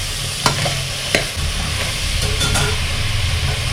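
Mutton with turmeric and salt being stirred as it fries in oil, a steady close sizzle with a couple of sharp scrapes of the spoon early on and continuous crackle throughout, no voices.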